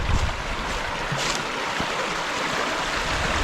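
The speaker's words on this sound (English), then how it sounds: "Beautiful Choke Creek." Choke Creek rushes steadily past an outdoor campsite, a loud, close, continuous wash of flowing water mixed with gusting wind, and no voices.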